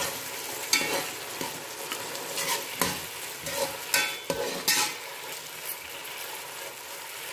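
Chicken noodles with peppers stir-fried in a pan give a steady soft sizzle broken by repeated scraping and tossing sounds from a utensil, close and moderately quiet, with no talking.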